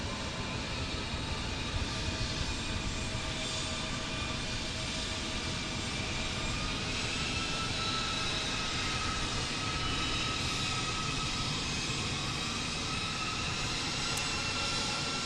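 A steady, loud jet-engine roar of an airplane taking off, a continuous broadband rush that holds level throughout with no voices.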